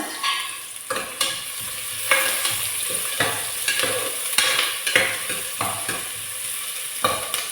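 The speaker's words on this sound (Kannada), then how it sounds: "ನಾನು ಈಗ ಇದನ್ನು ಒಳ್ಳೇದು ಫ್ರೈ ಮಾಡುವ" Onions fry in a pan for mutton gravy with a loud, steady sizzle broken by repeated scraping stirs of the spoon, close up, with no talking.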